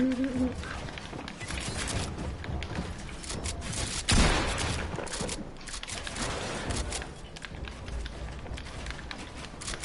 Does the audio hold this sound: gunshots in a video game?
yes